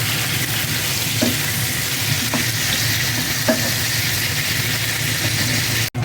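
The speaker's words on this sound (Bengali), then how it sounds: "এখন আলুটা ভাজতে দিয়ে দিয়েছি।" Potatoes frying in hot oil for beef biryani, a loud, continuous close sizzle with faint stirring knocks throughout and a brief dropout near the end.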